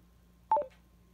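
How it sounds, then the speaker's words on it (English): A Bose Bluetooth speaker gives a quick rising run of three short electronic beeps as it connects, close and clear over a quiet room hum, lasting well under half a second. "It should make a beep when it connects."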